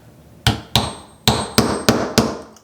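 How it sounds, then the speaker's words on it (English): A hammer strikes a push pin into the corner of a fluid-art canvas, six sharp separate knocks at an uneven pace, each ringing briefly before the next, close and loud. "I'm going to put this push pin right in the center like that. And then I'm going to hammer that down."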